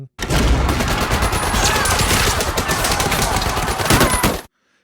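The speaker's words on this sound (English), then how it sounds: "the bastards come through Hitler's box and open fire with their machine guns" Sustained, dense gunfire from a war film scene set in World War II, with machine guns firing in rapid bursts; loud, continuous rattling and booming for about four seconds, then cutting off abruptly.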